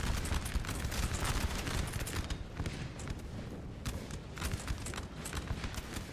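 Massed musket volleys crackle continuously across a large Napoleon Total War battlefield, dense overlapping shots in a rapid, uneven rattle at steady loudness.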